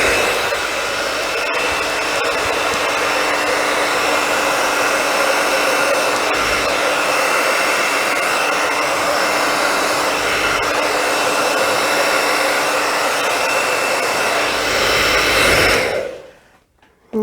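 A hair dryer blows across acrylic paint in a blue and violet colour-split Dutch pour, a loud, steady, close whirring roar that runs unbroken for about sixteen seconds before cutting off.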